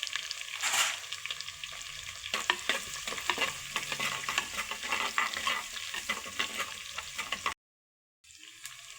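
Garlic sautéing and sizzling in hot oil for a Tamil sundakkai kara kuzhambu, with a steady crackling fry and bursts of stirring scrapes, then a brief silence near the end.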